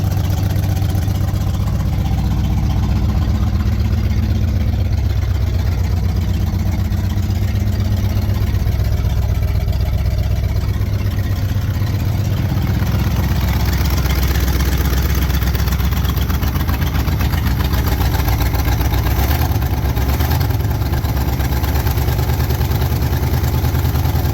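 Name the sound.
old engine running for first time in 30 years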